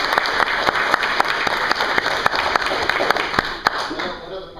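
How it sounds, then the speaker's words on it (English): A small group claps steadily for several seconds at a green belt test, the applause fading out at the end. "Clap for them."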